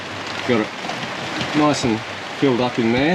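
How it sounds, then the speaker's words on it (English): Rain patters steadily on the roof of a 2021 VW Crafter van being insulated, a continuous close hiss under a man's intermittent speech. "Excuse the rain on the roof."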